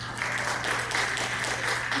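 Steady applause from a crowd, a continuous wash of clapping hands that holds at an even level throughout without any talking.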